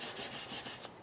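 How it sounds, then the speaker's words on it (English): Fine 3000-grit sandpaper kept wet rubs lightly over a model kit part, a soft rhythmic rasping of short back-and-forth strokes, close and steady with no voices. "I make sure I'm keeping the sandpaper wet, because if you don't, it will definitely ruin the day."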